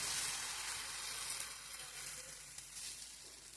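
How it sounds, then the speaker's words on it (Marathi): Ragi dosa batter sizzling on a hot ghee-greased nonstick tava, a continuous soft hiss and crackle, steady and close, with no talking. "बॅटर टाकून व्यवस्थित असे पसरून घेऊ"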